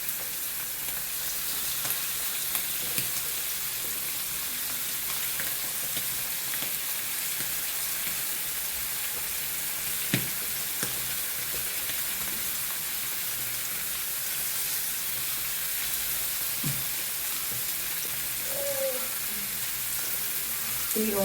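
Fish frying in a pan beside other pieces already cooking, giving a steady, close hiss and sizzle that runs unbroken, with a few faint clinks and no voices.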